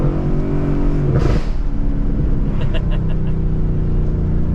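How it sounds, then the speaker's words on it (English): Exhaust of a 2020 Ford Mustang GT on a mountain road, a steady loud engine drone with a brief whoosh and a short run of sharp popping crackles near the end. "That was my car popping and crackling."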